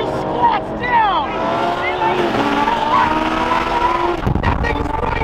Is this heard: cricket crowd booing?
no